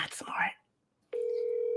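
A phone rings out once after a brief stretch of soft whispery talk, a steady, clear electronic tone with a sharp onset that holds loudly to the end after a short silence.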